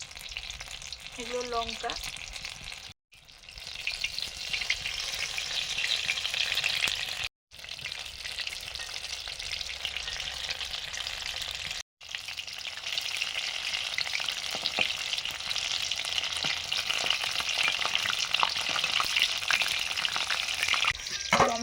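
Tomato vegetable chops deep-frying in hot oil, a loud, even bubbling sizzle that runs almost without pause, with a brief voice and a few clinks near the start.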